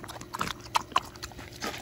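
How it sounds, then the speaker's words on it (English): A potbelly pig eats and drinks watermelon up close, giving a few soft wet munching and slurping clicks spaced irregularly over quiet background. "Everyone loves to see my cute little potbelly pig eating."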